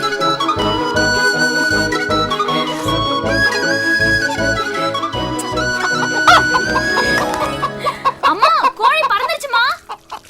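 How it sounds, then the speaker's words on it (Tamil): A village chicken clucks in a quick, wavering run near the end, over a loud, rhythmic music track that plays throughout, while people talk. "என்னது கோழி பறந்துருச்சா?"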